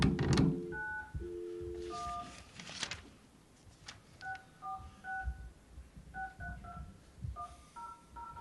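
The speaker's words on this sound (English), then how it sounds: "I need to dial this number again" Telephone keypad DTMF tones sound as a number is dialed, a sequence of short, clean beeps in irregular rhythm over faint room noise and soft background voices.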